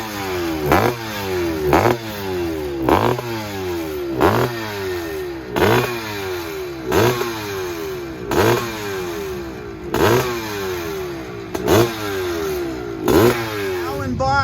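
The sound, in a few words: vintage 1981 motocross bike revving at race start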